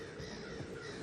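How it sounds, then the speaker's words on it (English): Crows cawing, a dense, harsh chorus of calls packed together at moderate distance, continuous over the short stretch with no talking. "there's the sound of crows in my ears"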